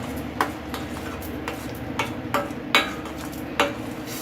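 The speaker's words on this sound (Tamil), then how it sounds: "அடி பிடிக்காமல் நல்லா கிளறணும்" A spoon stirs thick mango halwa in a pan, making soft scraping strokes and several sharp clinks against the metal at an uneven pace.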